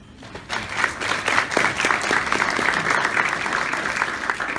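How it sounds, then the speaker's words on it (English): Audience applause at an Australian citizenship ceremony hosted by WAMCI, a dense, steady round of clapping from a seated crowd that swells quickly and holds for several seconds. "So I think that's definitely worth a round of applause"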